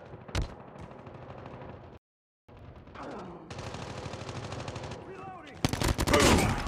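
Rapid bursts of gunfire from a 10 vs 10 Call of Duty Kill Confirmed match on the Rust map, loud and close, with a brief cut to silence and a dense, heavy volley at the end.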